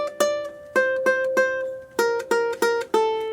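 A ukulele plucked on one string, playing a simple melody: ten clear, ringing single notes in groups of repeated pitches, descending step by step, close and alone with no talking.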